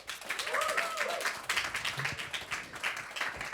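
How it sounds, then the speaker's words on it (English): Audience at the ACMies 2025 awards show applauds a performer, a steady wash of clapping with voices and cheers mixed in, fairly distant and moderate in level. "give him a really warm welcome, a really big round of applause for his performance"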